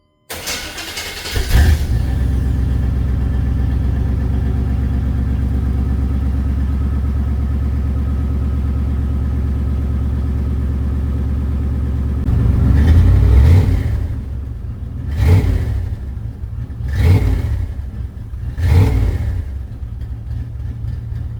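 A stock-exhaust Chevy GMT400 OBS pickup truck cranks and fires up, settles into a steady loud idle, then gives several sharp revs spaced a couple of seconds apart.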